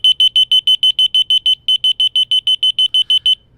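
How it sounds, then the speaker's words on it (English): A remote finder alarm held up close gives a loud, shrill, high-pitched beeping in rapid evenly spaced pulses, about twenty in a row with one brief gap, alone with no talk. "It's kind of a shrill, high-pitched beeping sound."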